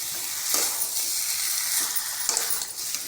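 Potatoes fry in a pan for a masala egg curry with a steady close sizzle, a few brighter spitting bursts and soft stirring over the constant hiss, and no voices.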